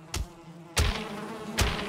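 In Valheim a bee drones with a near, steady buzz, punctuated by three sharp hits spaced roughly evenly.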